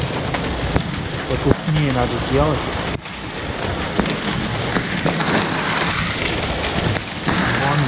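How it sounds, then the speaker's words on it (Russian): Heavy rain and hail pour down during a storm in Crimea, a dense, loud roar of drops with sharp hail patters, recorded close with brief bursts of talk over it. "идет град и крупный дождь"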